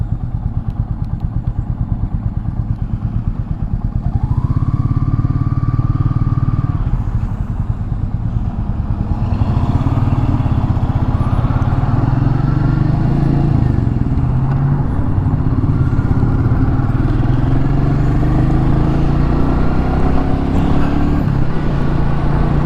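A 2021 Royal Enfield Meteor 350 thumps along under its rider, its single-cylinder beat loud and close, rising and easing as it accelerates, with wind rush and road clatter mixed in.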